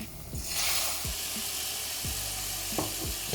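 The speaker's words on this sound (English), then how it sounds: "Keep moving it as it fries." Kimchi fries with grated garlic in a sauté pan, giving a continuous close sizzle broken by a few low scrapes as it is moved around the pan.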